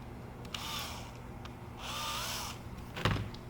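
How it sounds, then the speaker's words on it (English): A drill bores out small holes in 3D printed revolver parts, two short whirring bursts that rise and fall, close and moderately loud, with a clunk near the end. "I need to drill these holes out so that these fit in nice and"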